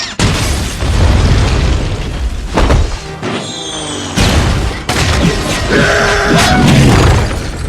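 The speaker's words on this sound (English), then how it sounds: "Grenade!" Grenade blasts go off in a gunfight at a cartel hideout, several loud, harsh explosions with shattering debris and bursts of gunfire, close and overwhelming, broken by short lulls.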